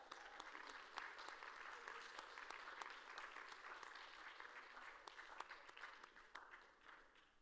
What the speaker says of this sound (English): Round of applause as they keep coming out